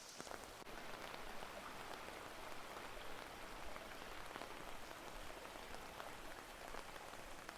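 Steady rain falls across a rocky stream valley tucked into a residential area of Seoul. It makes a continuous, even hiss of drops on rock, water and foliage, with no voices.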